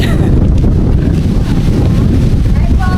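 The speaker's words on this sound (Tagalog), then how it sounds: "Masarap-sarap yung hangin na naman ngayon dito." Strong wind buffeting the microphone, a loud continuous roar with gusty rumble throughout.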